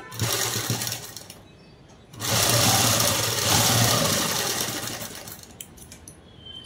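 A sewing machine stitching the seams of a prince-cut model dress runs in two loud bursts, a brief one and then a longer sustained run, with quieter pauses between and no talking.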